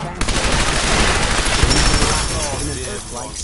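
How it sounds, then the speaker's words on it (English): Loud, dense bursts of gunfire from Fallout 4 fill the moment, a rapid overlapping fusillade that tapers off toward the end. "Open fire!"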